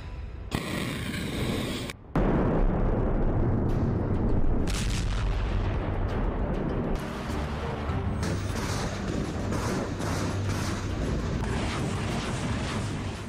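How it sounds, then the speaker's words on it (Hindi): Big missile explosion in eastern Poland near the Ukrainian border; a loud burst hits early, then a heavy rumbling roar carries on with booms and crackling debris. "और फिर हुआ एक बड़ा धमाका।"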